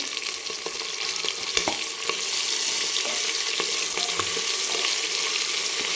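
A paste of ginger, garlic and coriander sizzles and fries in a pan, a steady close crackle with occasional stirring scrapes and no voices.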